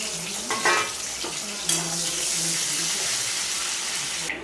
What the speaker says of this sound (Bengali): দিয়ে দেবো জিরে, গোটা জিরে, দিয়ে দেবো ক্যাপসিকাম,